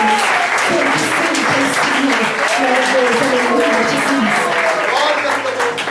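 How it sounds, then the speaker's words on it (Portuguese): A church congregation claps in praise, a dense and loud roll of many hands that carries on steadily while a voice keeps talking or singing over it throughout. "E as palmas louvam o Espírito Santo."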